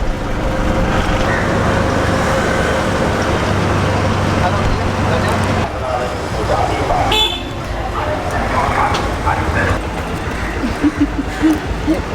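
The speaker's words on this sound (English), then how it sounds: "Bus station." Busy bus station in Sri Lanka with loud, dense traffic rumble, engines idling and passing, and a few sharp horn toots, while people talk nearby throughout.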